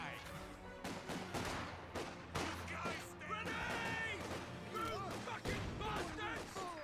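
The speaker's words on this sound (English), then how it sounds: "did I hear a rifle grenade?" Rifle grenade fire in Company of Heroes 2 bursts out among steady battlefield gunfire and explosions, sharp repeated cracks and thumps packed densely under a continuous roar of combat.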